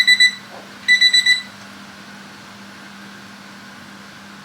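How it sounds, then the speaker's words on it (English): A canning timer beeps in two bursts of rapid electronic chirps, then falls quiet over a steady kitchen hum while okra is preserved by the approved canning method. "Okay, there goes our timer."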